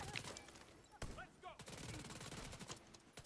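Gunfire in the video game The Division 2: rapid automatic bursts and single shots in quick succession, fairly faint, with brief voice fragments mixed in.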